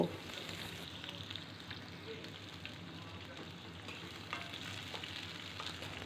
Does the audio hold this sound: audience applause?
no